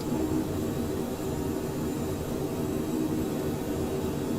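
Cockspur Mustang business jet in Microsoft Flight Simulator 2020 on its takeoff run, a steady, loud jet-engine roar with broadband rushing noise that holds constant throughout, no voices.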